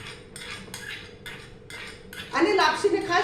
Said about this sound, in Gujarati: આ ઘી છે એના ઉપર મેં નાખી દઉં છું.